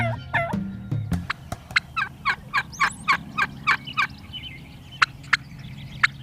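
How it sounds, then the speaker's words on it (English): Wild turkey gobbling repeatedly during a Nebraska spring hunt near decoys and a hen, a rapid series of sharp rattling gobble bursts in steady rhythm, fairly close and clear over a low background hum. "The first turkey to the decoys with this beautiful little sexy hen."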